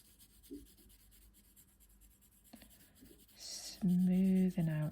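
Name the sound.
pencil held flat shading on paper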